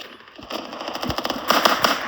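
Rapid volleys of pistol gunfire in a video game crackle in bursts, steady at first and then louder and denser toward the end, with no talking.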